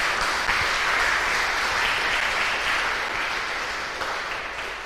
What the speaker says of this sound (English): it is time to applaud loudly.